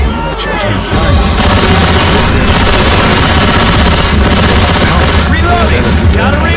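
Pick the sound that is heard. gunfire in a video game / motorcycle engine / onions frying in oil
gunfire in a video game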